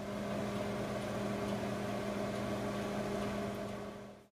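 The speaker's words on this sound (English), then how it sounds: "put the water bowl into the microwave" A steady, even electrical hum of a microwave oven running, constant throughout before cutting off at the end.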